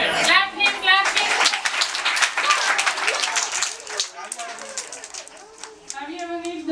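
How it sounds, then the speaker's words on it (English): A classroom of children at a fruits day celebration clap for a classmate, a loud, dense burst of applause that tapers off as an adult voice and children's chatter carry on over and after it. "Clap him, clap him."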